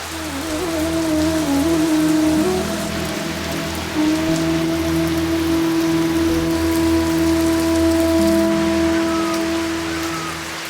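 Heavy rain pours steadily in a Pahadi mountain village, a dense continuous hiss drumming on surfaces, loud and unbroken throughout, with a low hum beneath.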